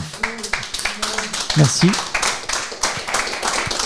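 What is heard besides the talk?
audience applauding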